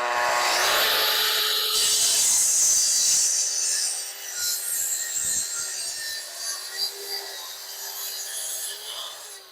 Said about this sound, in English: I'm just ready to trim this so I have a nice square edge on the end